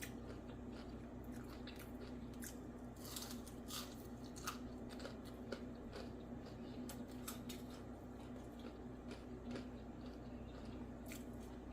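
Fried oyster mushroom is chewed up close, a quiet, steady run of crunchy, crackly bites over several seconds with no talking.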